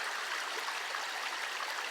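A river in El Yunque rainforest, Puerto Rico, rushes in a steady, close, broadband wash of flowing water with soft gurgles and no voices.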